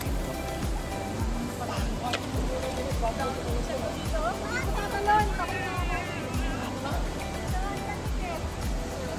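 A river flowing below Mablaran Falls in San Andres on Tablas Island, Romblon, gives a steady rushing wash throughout, with people talking over it.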